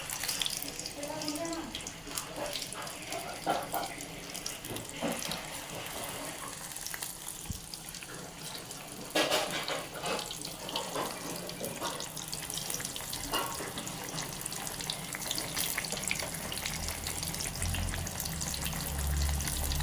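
Chili and plantain bondas in batter deep-frying in hot oil, a steady crackling sizzle running throughout with scattered louder pops, fairly close and without talk.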